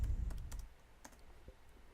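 Quiet clicks of keys being typed on a computer keyboard, a few scattered taps close to the microphone in a calm room, with no voices.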